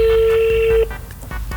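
A steady telephone tone holds for under a second, then stops, leaving faint line noise and soft clicks behind.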